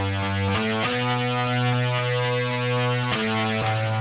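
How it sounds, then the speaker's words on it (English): A distorted guitar-amp synth lead preset in Logic Pro plays sustained, buzzy held notes that change pitch a few times, loud and continuous with no voices. "Guitar amp synth lead,"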